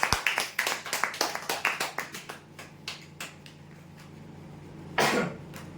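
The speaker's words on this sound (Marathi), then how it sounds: "जोरदार टाळ्या ह्यांच्यासाठी." A small audience at a prize-draw event claps for a winner, a burst of scattered, close hand claps that thins out over a few seconds, followed by a brief rustle.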